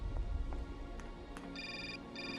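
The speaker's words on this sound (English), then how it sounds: "And a phone call." A telephone rings twice in the Syberia video game, short electronic trills separated by a pause, fairly quiet and heard alone over low ambient background.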